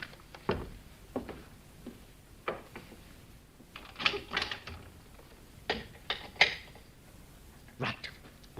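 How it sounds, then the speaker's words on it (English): A brand-new car's handbrake being released in a garage at night, heard as a series of quiet, sharp ratcheting clicks and mechanical clunks spread irregularly across several seconds, with no voices. "I'll take off the brake."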